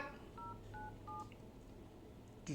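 Telephone being dialed for a call to a district livestock office in Manang, Satun, with three short touch-tone beeps in a quick row over low background noise, followed by a faint click.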